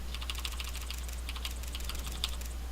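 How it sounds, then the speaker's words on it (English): Fast typing on a loud Mech 5 Levitron mechanical keyboard during a StarCraft 2 game, with dense clacky keystrokes over a steady low hum. "it is indeed the Mech 5 Levitron. It is a very good keyboard from what I understand. It's also very loud, like here."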